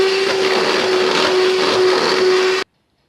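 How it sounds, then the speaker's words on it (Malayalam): An electric beater whirs steadily as it mixes flour into vanilla cake batter, a loud, constant motor drone with a steady tone that runs unbroken for over two seconds and then cuts off. "ഈ പൊടി പറന്ന് പോകാതിരിക്കാൻ ആദ്യം ഒന്ന് ഇളക്കിയിട്ട് ഇങ്ങനെ ബീറ്റ് ചെയ്യണം"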